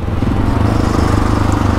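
Motorcycle engine fitted with an aftermarket exhaust end can, revving with a steady, throaty low pulsing that stays loud and close throughout.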